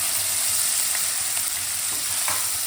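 200 grams of paneer frying in oil in a pan, a loud, even, hissing sizzle throughout with faint stirring, no voices.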